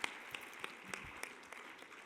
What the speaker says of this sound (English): let's give Melba one more round of applause